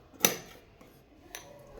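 Two crisp scissor snips cutting blouse fabric for a four-tuck blouse, one sharp near cut followed by a softer second snip about a second later, in a quiet room.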